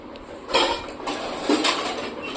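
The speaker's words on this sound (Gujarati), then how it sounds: "મોટો ચમચો પડ્યો" Metal spoons clink and clatter against dishes in a few bright, sharp bursts, close by, over a faint background hiss.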